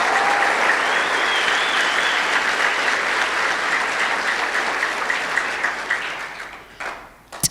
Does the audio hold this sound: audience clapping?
yes